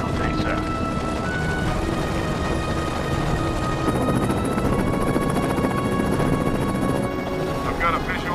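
A helicopter circles over cooling towers while approaching to land in a disaster movie, its loud, steady rotor and engine drone filling the scene, with radio-style voices talking over it.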